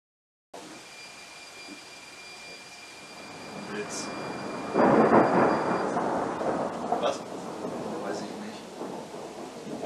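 A deep rumble of thunder from a lightning storm builds and swells in the distance over an old poultry farm, rolling on for several seconds with low, steady background noise.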